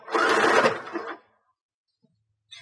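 A sewing machine runs a short burst stitching lace onto a bra, a steady whirring hum for about a second, then stops, followed by a faint click and a brief rustle.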